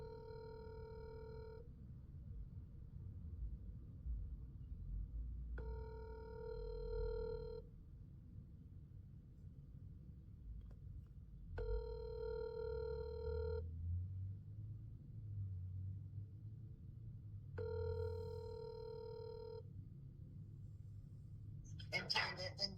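A telephone rings out over a speakerphone in four evenly spaced electronic ring bursts about six seconds apart, with low rumbling room noise between them and a brief clatter near the end.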